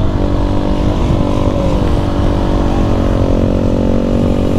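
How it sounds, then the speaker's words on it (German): A supermoto motorcycle engine pulls hard during a wheelie, a loud, close, continuous buzzing roar whose pitch climbs and holds without a break. "probieren wir auch noch mal einen kleinen Wheelie hier"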